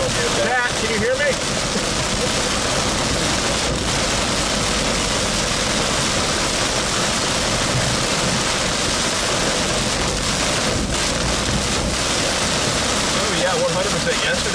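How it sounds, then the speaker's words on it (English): Heavy rain falls during a storm chase through a tornado outbreak in Mississippi and Alabama as a dense, continuous hiss, with a low rumble underneath and occasional brief knocks. "Well, this is like heavy rain."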